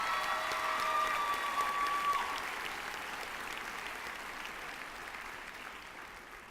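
A large crowd at a 2013 early college high school graduation ceremony applauds the graduates; the clapping is loud at first, then gradually thins and fades toward the end.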